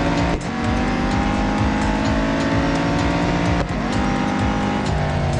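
A race car engine in the Real Racing 3 video game runs loud and steady through an autocross event, holding a sustained roar with two brief dips where the revs drop and climb again.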